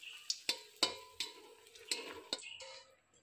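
Dried red chillies dropped into hot mustard oil, a series of sharp crackles and clinks from the pan followed by a soft frying sizzle, fairly faint, with no talking.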